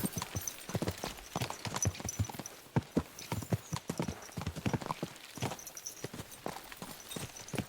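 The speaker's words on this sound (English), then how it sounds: "Let's really spur these horses on, eh?" Horses gallop in a medieval open-world game set in Bohemia, with rapid, steady clip-clop hoofbeats close by and loud, overlapped by occasional faint whinnies and no talk.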